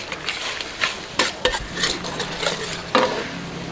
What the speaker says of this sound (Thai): จะผัดกุ้งให้เขาเกือบสุก